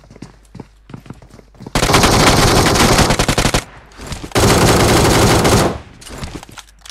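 Two long bursts of rapid automatic gunfire in a winter-front game mode of a shooter, loud and close, each lasting over a second, separated by a short quieter gap.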